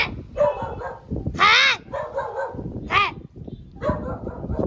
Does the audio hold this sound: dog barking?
yes